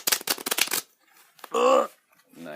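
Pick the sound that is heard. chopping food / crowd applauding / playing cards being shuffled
playing cards being shuffled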